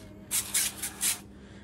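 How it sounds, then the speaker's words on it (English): Avocado oil cooking spray hisses onto fish fillets in four short, close bursts, with quiet pauses in between. "I'm gonna spray both sides."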